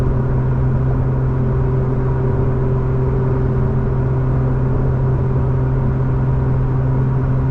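Lotus Emira engine held in a steady, loud drone with strong low harmonics, a continuous close mechanical hum that stays nearly constant in pitch throughout rather than climbing to redline.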